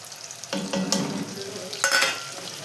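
Onion stir-fried with red chilli powder in a pan, with a moderate hiss broken by a few distinct scraping and clattering strokes of a spatula, close and without talk.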